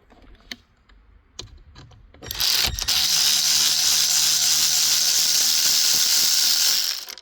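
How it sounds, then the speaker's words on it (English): An electric ratchet whirs continuously for about five seconds while working on a car's steering wheel assembly, loud and close, preceded by a few faint clicks and taps of handling parts. "Got this ratchet over here, electric ratchet."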